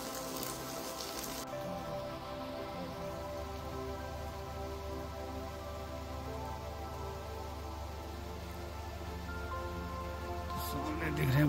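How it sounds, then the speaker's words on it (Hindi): Rain begins falling during a jungle safari in Jim Corbett National Park, a steady broadband patter that holds evenly and swells slightly toward the end, with no talk over it. "देखो ऐसा हुआ, बारिश आ गई"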